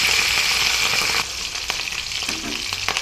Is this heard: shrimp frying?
yes